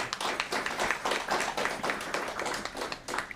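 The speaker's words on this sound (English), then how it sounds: "So give yourselves a round of applause for making that happen in this community." A community gathering at a senior center breaks into applause, a steady patter of many hands that sounds somewhat distant and moderately quiet, continuing evenly throughout.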